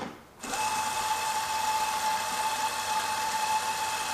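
An Allegra Lyra espresso machine grinds coffee beans with a steady, loud whirring drone that starts abruptly and continues unbroken, with no talking.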